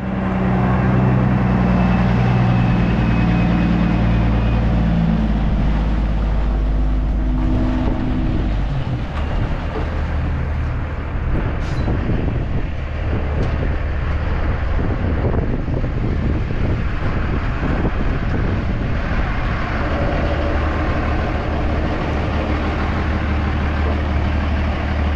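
A semi truck nicknamed Old Blue idles steadily as it warms up, a deep continuous engine rumble close by, with wind buffeting the microphone throughout and no talking.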